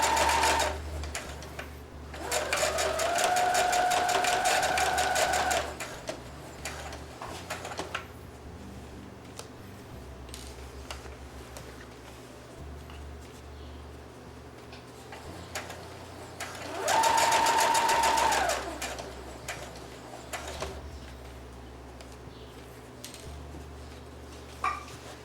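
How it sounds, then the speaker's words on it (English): Sewing machine stitching denim jeans into shorts, two bursts of fast, even mechanical whirring a few seconds each, separated by quieter pauses with faint handling sounds. "you sew at whatever speed you feel comfortable at"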